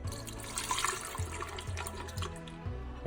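Water pours steadily into a cup for a moringa drink, a continuous splashing trickle at close range with a low gurgle rising as the vessel fills, no voices.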